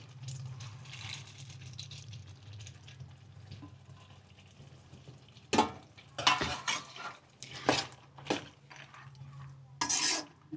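Cashews and garlic tipped into a gravy in a pan, heard as a soft low simmer at first, then several sharp clattering knocks and scrapes of a spoon against the pan, close and fairly loud, without speech.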